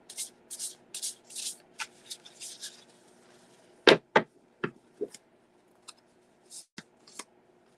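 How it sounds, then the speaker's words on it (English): A deck of cards is shuffled by hand, soft riffling bursts early on followed by several sharp, close snaps and taps spaced irregularly through a quiet room. "So I just feel like I need to keep shuffling this deck."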